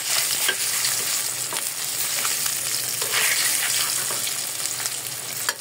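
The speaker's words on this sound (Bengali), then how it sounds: "ডিমগুলো আমি হলুদ আর লবণ দিয়ে ভাজি করে নিতেছি।" Eggs frying in hot oil with turmeric and salt, a loud, continuous close-up sizzle broken by scattered scraping ticks of stirring, no speech.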